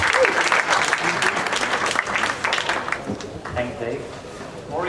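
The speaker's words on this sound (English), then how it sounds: "I want a big round of applause for Max" A conference audience gives a big round of applause for a speaker about to present on the future of tennis, dense close clapping that fades slightly near the end.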